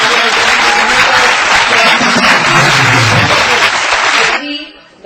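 An audience claps at a youth leadership contest event in Bhopal, a loud, dense, sustained round of applause that dies away abruptly near the end, with no clear speech over it.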